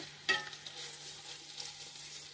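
Onions and green chillies fry quietly for bagara rice, with a soft sizzle and one sharp clack of a utensil near the start.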